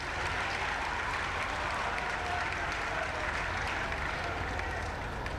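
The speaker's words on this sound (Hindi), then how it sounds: "जोरदार तालियां।" An audience claps loudly and continuously at a statue unveiling in Gorakhpur, a dense, steady wash of many hands sustained throughout without pauses.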